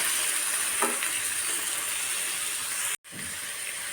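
Guava and mixed vegetables stirred in a hot pan, a steady loud sizzle and hiss with a few soft scraping strokes and a brief cut-out near the end.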